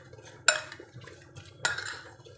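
Sugar gets mixed into a mixture in a bowl with a spoon, producing two sharp metallic clinks against the bowl amid quieter stirring and scraping, close up and with no voices.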